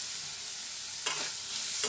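Chopped tomato and spices, including turmeric, fry in a pan with a steady close sizzle, broken by two brief scraping stirs.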